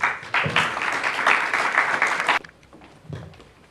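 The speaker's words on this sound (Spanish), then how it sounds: "Perfecto, aplausos." Audience applause following a lecture on law, efficiency and justice, a dense burst of clapping for about two and a half seconds that cuts off abruptly, followed by quieter room sounds and a brief murmur.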